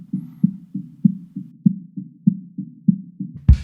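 A kick drum soloed through a narrow low-mid band around 220 Hz thumps in an even, repeating pattern, each hit a muffled boxy pulse, with a sharp burst at the end.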